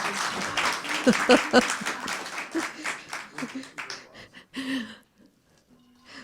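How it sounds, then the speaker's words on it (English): An open mic night poetry audience gives a round of applause that starts loud and dense, then thins out into scattered claps and fades, with voices talking over the end. "let's give him another round of applause"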